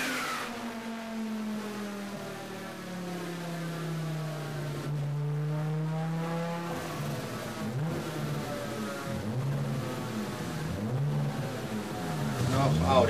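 Audi S2 turbo engine revving steadily under rising boost, a sustained droning pitch that sags and then climbs with harmonic whine, loud and continuous throughout.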